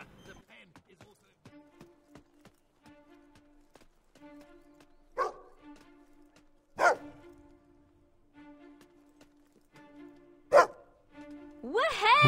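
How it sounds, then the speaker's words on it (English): A dog barks repeatedly in the video game Fable 2, sharp separate barks spaced through a steady musical hum and faint background sounds, with a few louder bursts standing out. "I know he's barking about something."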